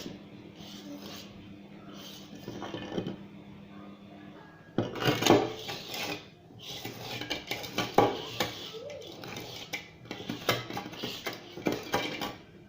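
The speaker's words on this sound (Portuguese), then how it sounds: "Então vou misturando assim" Passion fruit chiffon cake batter being mixed in a bowl, a utensil scraping and clinking against the sides in uneven bursts, quieter at first and then louder, busier stirring, with no talking.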